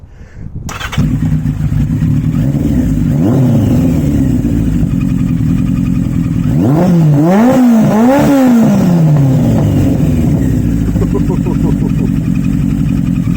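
A 1982 Yamaha motorcycle with a Delkevic 2:1 megaphone exhaust, baffle removed, starts up and idles loudly close by, then is revved several times in rising and falling blips before settling back to a steady idle.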